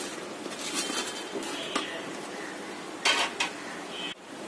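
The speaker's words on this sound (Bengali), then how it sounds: "এখন এই পাকোড়াগুলি আমি বড় একটা বাটিতে ঢেলে" Fried potato pakoras tumble into a large bowl, giving dishware clatter and a couple of sharper clinks near the end over steady kitchen background.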